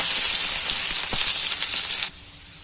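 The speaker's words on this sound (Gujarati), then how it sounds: "એકદમ સરસ આપણે સાતળી લેવાની છે ડુંગળીને પણ" Onion sautéing in hot oil with mustard seeds and cumin, a loud steady sizzle that cuts off sharply near the end, no talking.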